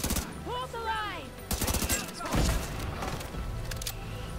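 Gunfire from The Division 2 shooter game, with rapid bursts and sharp shots, a brief crackling volley and thuds mixed with game sound effects and a computer-voiced callout.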